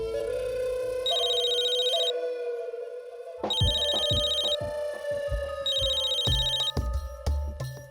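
A telephone rings in repeated electronic bursts, each a bright warbling tone lasting about a second with short gaps between, layered over dramatic music with pulsing low beats.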